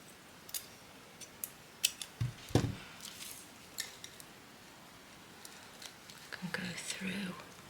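Scissors snipping through paper in a quiet crafting session, a few short crisp cuts spaced irregularly, faint and close, with soft handling rustles between them.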